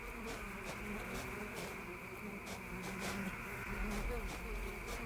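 Bees buzz steadily in the medieval farming game Mirthwood, a soft continuous drone under a low ambient bed with faint clicks, holding fairly even throughout.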